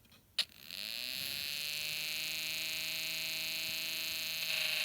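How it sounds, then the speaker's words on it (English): A Snap Circuits SC-750 motor spins a fan, starting with a sharp click and then settling into a steady, loud electric hum with buzzing overtones that runs alone throughout. "the motor is spinning pretty fast. And you do hear some humming or buzzing sounds, like that of an airplane or race car engine."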